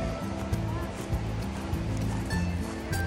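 River water flowing near a family campsite, a continuous rushing wash heard fairly close and steady, with scattered low thumps and faint outdoor noise.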